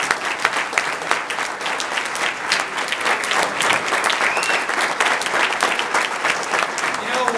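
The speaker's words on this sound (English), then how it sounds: "Round of applause for Bob." Enthusiastic audience applause at a campaign kickoff event fills the room, dense sustained clapping from a large crowd, loud and continuous throughout.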